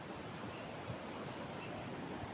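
Water from the opened gates of the Malan river dam at Mota Khutavada rushing at night, a steady, dense roar heard from some distance, with no voices.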